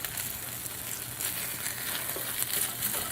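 Rice and dehydrated beef sizzle steadily in a pan, about a pound of rice mixed with a bag of Lipton seasoning for trail burritos, a continuous close frying hiss with occasional stirring scrapes and no talking.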